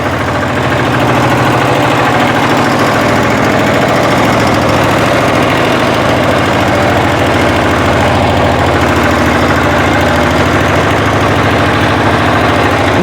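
A diesel walk-behind tractor engine idling close by, a loud steady low rumbling chug with constant knocking vibration, heard alone throughout.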